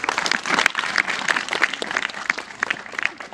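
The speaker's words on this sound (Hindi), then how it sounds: "जिन्होंने डिसाइड कर लिया है उनके लिए एक बार जोरदार तालियां बजा दीजिए" Students at a government senior secondary school legal aid camp clap loudly for classmates who have chosen a career, a lively, uneven burst of many hands with sharp individual claps standing out.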